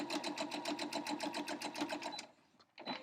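A sewing machine stitches a quilt seam, a close, rapid, even run of mechanical clacks for about two seconds, then it stops and briefly starts again.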